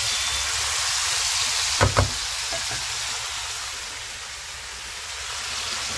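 Cooked vegetables and bok choy leaves hit a hot pan for a Szechuan cumin shrimp stir-fry, setting off a steady close sizzle and hiss, with a brief double knock of a utensil partway through.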